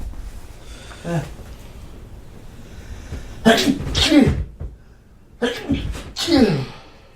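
Someone sneezes loudly twice, each a sharp explosive burst, with quieter breathing and background noise between them.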